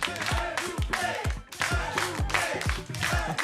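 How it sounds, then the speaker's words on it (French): A crowd in the studio audience of a French-language lottery game show chants loudly and rhythmically, with clapping mixed into the steady roar. "les gens dans la foule scandent encore pour un doublé"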